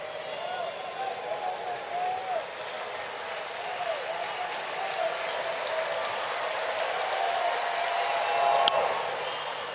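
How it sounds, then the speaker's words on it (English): A large stadium crowd at a Phillies vs Braves baseball game roars and cheers continuously, a dense wash of voices and applause building slightly toward the end, with a voice calling out over it. "It's so hard when the crowd starts to fire up like that"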